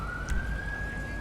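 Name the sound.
police car siren in video game FiveM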